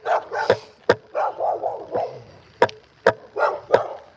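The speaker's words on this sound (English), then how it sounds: "Dogs should bark at strangers" A dog barks outdoors in loud, sharp bursts, several barks in an uneven run with brief whines in between, close to the listener with little else heard.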